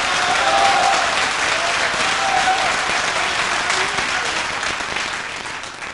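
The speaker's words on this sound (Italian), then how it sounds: "C'è grande tifo in sala questa sera" A crowd in a billiards hall at a five-pin stecca match applauds loudly, with steady clapping and cheering filling several seconds and a faint voice underneath.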